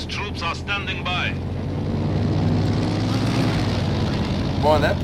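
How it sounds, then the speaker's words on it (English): An aircraft drone in the World War II strategy game Company of Heroes 2, droning steadily at mid distance. Brief speech sits at the start and end. "Boy, that plane is sure flying around doing a whole lot of nothing."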